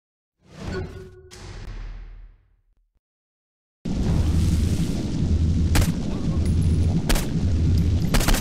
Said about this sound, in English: Particularly flaming bullets.